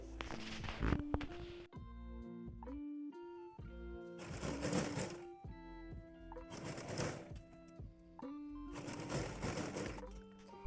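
A sewing machine stitches folded fabric for a purdah, running in several bursts of rapid mechanical whirring separated by short pauses, close and loud with no talking.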